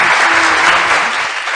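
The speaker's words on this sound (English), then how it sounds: "So let's give David Cleveland a warm round of applause." Steady, dense applause from an audience for an e-bike company founder, loud and continuous through the short moment without any speech.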